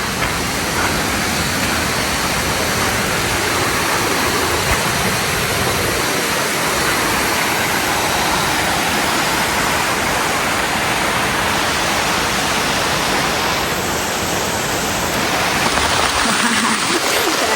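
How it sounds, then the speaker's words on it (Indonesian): Heavy rain pours near Curug Cisadane waterfall, a loud, dense and constant hiss with rushing water that fills the whole stretch, without talk. "Kondisinya hujan guys, hujan cukup deras."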